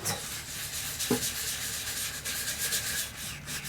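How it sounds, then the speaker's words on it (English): Yorkshire Grit abrasive paste being rubbed onto turned wood on a lathe, a steady close hissing friction with a brief knock near the start, continuous and moderately loud. "Applying a little bit of Yorkshire grit."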